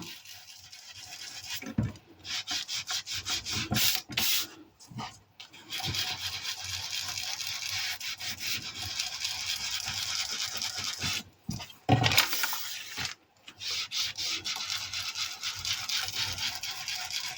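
Steady dry rubbing against the edges of a small handmade steampunk-cat card to darken them, a close continuous scratchy scrubbing broken by a few short pauses and knocks, with no talking.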